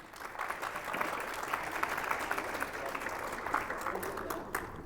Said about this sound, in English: a big round of applause to Team Islam.